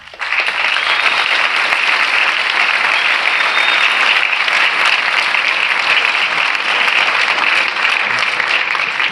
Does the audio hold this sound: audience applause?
yes